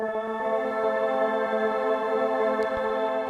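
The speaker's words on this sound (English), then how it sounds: "everything gets blended together into a drone" A dense granular-synthesis drone built from a short sample: steady sustained tones blended into one continuous, even pad with layered harmonics and a soft grainy texture, holding level throughout with no voices.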